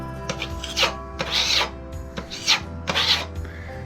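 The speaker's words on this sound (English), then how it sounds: "Then I'm just going to pass with the filling knife on top" Filling knife scraped over a freshly filled repair, several close rasping strokes in an uneven rhythm with short pauses between passes.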